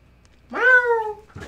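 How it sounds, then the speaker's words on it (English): A single drawn-out cat meow from Minecraft, rising then slowly falling, clear and close, standing alone over near silence with a brief noise at the very end. "Kitty's cats go meow!"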